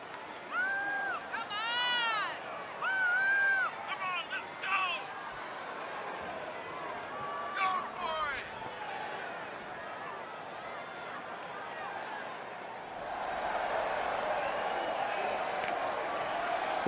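A steady arena crowd roar fills a WWE 2K20 wrestling match, with loud vocal swells and cheers rising over the constant din early on and again near the end.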